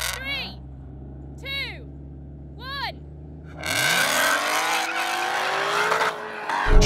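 Muscle cars, a Mustang, Camaro and Dodge Hellcat, launch in a standing quarter-mile drag race: a few short revving engine bursts give way to a loud roaring takeoff with tire noise that stays strong to the end.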